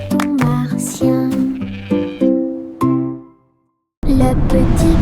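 Sheep bleating in a children's song about Little Bo-Peep's sheep on Mars, several loud, close, wavering bleats one after another, then a pause and a burst of music.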